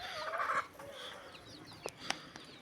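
Naked-neck chickens and other hens cluck in a farmyard garden, giving a few nearby harmonic calls followed by short, sharp clucks toward the end.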